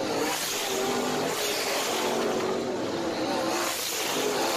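Race cars of the Southern All Stars series roaring around the Southern Raceway speedway, a dense continuous engine drone with shifting pitch as several cars run close together, loud and sustained throughout.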